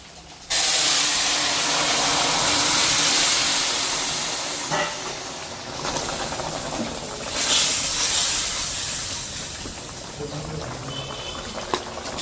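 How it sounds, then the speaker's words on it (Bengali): Fish poured into a hot pan, after cumin seeds, bursts into a loud, steady hiss of sizzling that slowly eases and continues with softer crackling. "এখন মাছ ঢেলে দেবো।"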